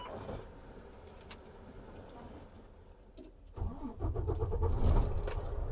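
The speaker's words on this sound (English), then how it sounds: "We will start the truck." A tractor trailer truck's diesel engine turns over and catches after about three and a half seconds, rising to a loud, steady rumble heard up close from inside the cab, with quieter mechanical noise before it starts.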